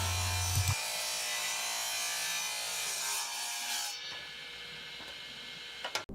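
A table saw rips a 2x6 pine board into narrow strips, a loud, steady, rough cutting whine that runs for about four seconds, then drops to the motor spinning down, with a sharp knock near the end.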